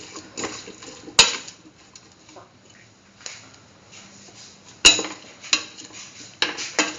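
A utensil clinks against a pot while cauliflower and chayote stew is mixed, with a few sharp metallic taps and softer scraping and stirring noises between them, close and fairly loud.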